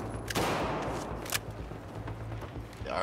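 Gunfire in Battlefield 4: a sharp burst of shots near the start and another crack about a second later, over a low steady rumble of the game's background.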